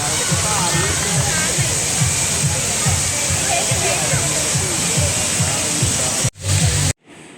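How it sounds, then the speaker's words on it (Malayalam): Man-made waterfall at the Ernakulathappan ground, a steady loud rush of falling water filling the scene, which cuts off abruptly near the end. "എന്താ വെള്ളച്ചാട്ടം നോക്കിയേ"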